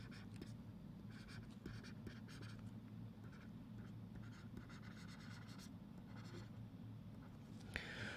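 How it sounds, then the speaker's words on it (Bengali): Faint close-up handwriting on paper, repeated short scratchy pen strokes in irregular bursts over a steady low background hum, with a small tap near the end. "আমি লিখে দিচ্ছি।"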